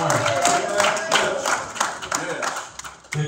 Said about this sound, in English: Give God a hand clap of praise right now